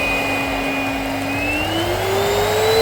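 A Miele vacuum cleaner runs steadily after repair, a loud, close, continuous whine and airflow rush whose pitch climbs gradually toward the end.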